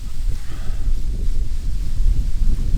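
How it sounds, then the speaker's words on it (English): Steady wind on a hiking trail buffets the microphone with a low, rumbling roar that never lets up. "it just got really windy"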